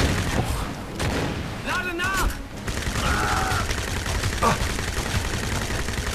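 Rapid gunfire and booms from the shooter game Crysis crackle continuously through the scene, with bursts of shots and battle noise mixed under in-game voices.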